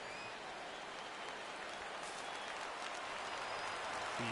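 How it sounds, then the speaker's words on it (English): A large crowd in the baseball video game MLB 17 roars and cheers steadily throughout, a dense wash of noise that swells slightly toward the end. "The crowd on their feet making noise."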